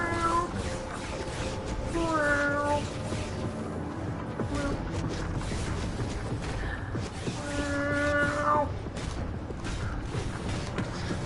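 A person imitates a cat with drawn-out meows, two clear calls a few seconds apart over a constant noisy background hum, near and moderately loud.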